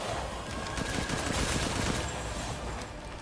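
Rapid gunfire from a weapon in the video game Resident Evil Village rattles in a dense, steady burst, loud and continuous with no talking over it.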